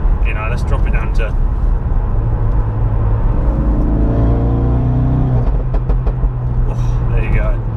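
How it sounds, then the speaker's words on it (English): A 400 bhp Ford Focus RS MK3 drops down through the gears, its engine rumbling and falling in pitch while the exhaust crackles and pops, heard from inside the car alongside a talking driver. "You can hear the pops and bangs in the back"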